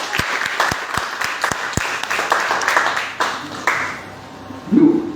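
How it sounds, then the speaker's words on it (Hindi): Scattered applause from an audience at a business opportunity seminar, starting with sharp, separate claps that blend into a brief burst of clapping before fading, followed by a short low sound near the end. "जोरदार तालियां होनी चाहिए"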